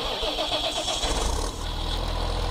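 A John Deere tractor engine starting in Farming Simulator 22, cranking briefly and then settling into a steady low rumbling idle, close and continuous with no talk over it.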